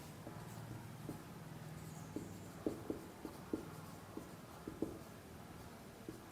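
Pen or pencil writing during a Class 9 geometry lesson on diagonals of a quadrilateral, heard as faint scratchy strokes with several small tapping marks over a steady low room hum, no talk.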